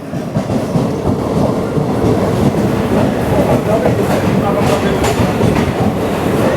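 Passenger express train pulling into Parbhani Junction, a loud continuous rumble of wheels and carriages with faint rhythmic clatter and some brief squeals, heard from on board.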